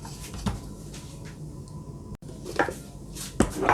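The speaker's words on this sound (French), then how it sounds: "j'ai haché les champignons noirs taillés" Black mushrooms being chopped with a knife on a cutting board for spring rolls, with a few sharp, irregular knife strikes over quiet kitchen background, close and distinct.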